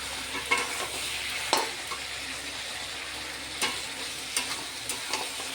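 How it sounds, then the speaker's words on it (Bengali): Chicken being stir-fried with ground green chili paste and salt in a pan, a steady close sizzle broken by several sharp scraping stirs of a spatula, with no talking. "এবার এটাকে সুন্দর করে কষতে হবে।"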